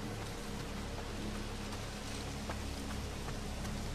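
Steady broadband rain hiss from the video game Pineview Drive, a dense, even downpour with scattered droplet ticks, continuous and fairly loud throughout with no talk.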